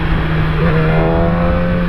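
A car drives past erratically on a road, a steady engine tone with rising harmonics as it moves by at close range, loud and continuous for about two seconds with no talk.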